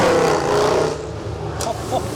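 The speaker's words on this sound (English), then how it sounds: "some noisy cars here, that's for sure." Loud car engines roar and rumble nearby at an outdoor cars and coffee car show in Caerphilly, with a vehicle passing and fading, over a busy background.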